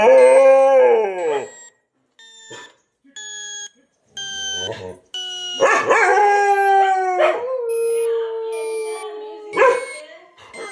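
A dog howls in long, high-pitched, complaining cries, rising and wavering in several drawn-out bursts with short gaps between them, loud and close.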